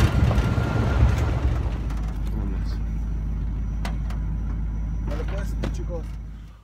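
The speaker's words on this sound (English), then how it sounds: "our truck just dropped us here" A truck that has just dropped off hikers pulls away on a mountain road, its low engine rumble steady and close at first, then fading out, with faint scattered voices and jangling in the background.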